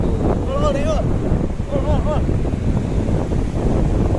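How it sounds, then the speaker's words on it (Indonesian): Loud, continuous strong wind on a beach buffeting the microphone, a steady low rumble throughout with a few voices speaking briefly over it. "ini anginnya kenceng"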